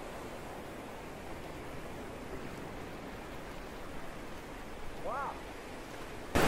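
Ocean surf keeps up a broad, steady wash of noise at a moderate distance, with no distinct break standing out. A short chirp comes in near the end, followed by a sudden louder burst.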